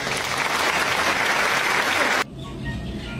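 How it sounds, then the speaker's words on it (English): Dense, loud applause from a large gathering at a university welcome fills most of the moment, then cuts off abruptly, leaving a quieter room tone. "Give yourself a big round of applause"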